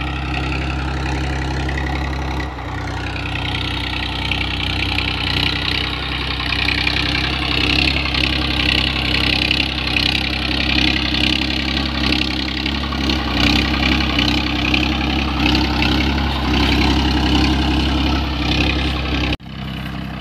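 A Toofan tractor engine runs in a field with a steady, loud, close diesel rumble that holds for the whole stretch, rising slightly in revs midway before a brief dip near the end.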